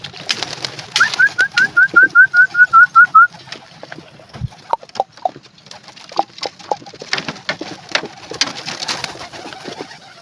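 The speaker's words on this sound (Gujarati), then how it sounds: "આવા કંઈક આપણા કબૂતર છે જો" Domestic pigeons at a home loft, with a rapid burst of wing flapping early on followed by soft scattered cooing and rustling nearby.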